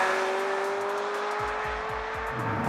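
Open-top Ferrari F355 GTS targa with its V8 engine, driving a small Belgian country road, with a steady, loud engine drone heard from inside the car and a few deeper revving pulses toward the end.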